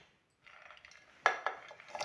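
A small child bangs and clatters pots, dishes and utensils in a home kitchen, producing a run of sharp metallic knocks and rattles, fairly close and moderately loud, with no talking.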